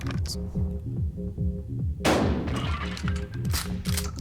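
A sharp shotgun blast in the video game Buckshot Roulette cuts through looping game music, followed by a few smaller bursts and clicks.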